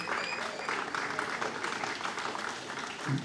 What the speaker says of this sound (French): Donc ça peut s'applaudir.